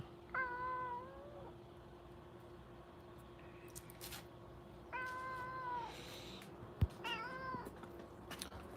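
A cat meows several times, drawn-out wavering cries spaced a few seconds apart, fairly close against a quiet background with a faint hum.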